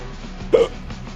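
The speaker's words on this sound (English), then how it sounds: "I hate hiccups." A single sharp hiccup from a man, short and close, standing out briefly against a faint steady background.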